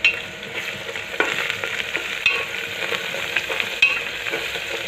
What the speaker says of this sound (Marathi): आता कोथिंबीर पण आपण एकदम अशी तेलामध्ये फ्राय करून घेऊ